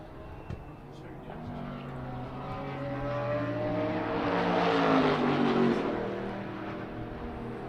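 Race car in a Ruapuna endurance race roaring past the commentary position, a loud engine note rising and swelling as it approaches, peaking mid-clip, then fading toward turn one; no talk over it.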